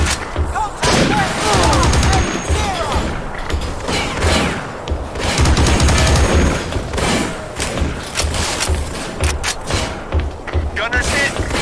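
Dense gunfire and booming explosions in the video game Battlefield 2: Modern Combat, a loud continuous battle of rattling shots and thuds with shouted voices mixed into the din.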